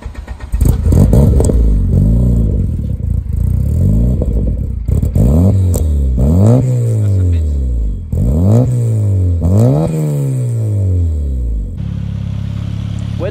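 A 300 hp ethanol-fuelled Corrado turbo running a full exhaust with a single rear silencer revs repeatedly from idle in loud, sweeping bursts, rising and falling several times at close range before settling into a rumbling idle.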